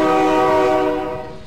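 A train in the BeamNG Drive video game passes with a loud, sustained, multi-tone horn blast that fades slightly toward the end.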